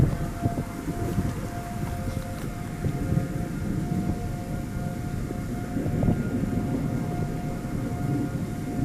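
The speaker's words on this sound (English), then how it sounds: "You hear the tornado sirens?" Tornado warning sirens wail steadily in the distance during a supercell storm near Woodward, Oklahoma, a long droning tone over low wind and rumbling background.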